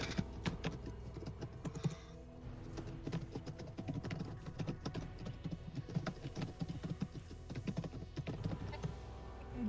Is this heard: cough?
no